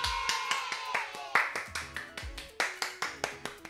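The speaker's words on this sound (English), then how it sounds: "can I get a round of applause" A few people clap in quick, uneven bursts after a game win, sharp hand claps close by with a voice talking over them.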